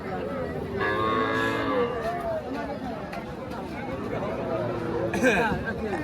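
Young Sahiwal cattle calves at a busy livestock market, lowing and mooing a few times amid steady crowd chatter, with someone talking nearby throughout.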